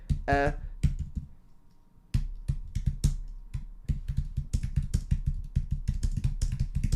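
Fingers type on a computer keyboard in quick, uneven bursts of crisp key clicks, close and clear, after a short pause near the start.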